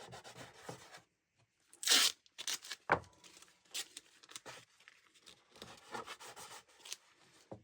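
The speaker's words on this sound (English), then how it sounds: "use decorator's masking tape. This is to stop it sliding around." Decorator's masking tape pulled and torn off the roll and pressed onto a wooden lyre soundboard, with quiet rustles, one sharp tearing rip and soft rubbing, close and faint.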